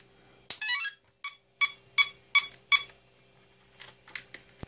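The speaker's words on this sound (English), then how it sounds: "The ESC will partially arm." An ESC in an Avionik model airplane arming after the battery is connected, sounding one longer tone followed by five short, evenly spaced beeps nearby, then quieter faint clicks, with no talking.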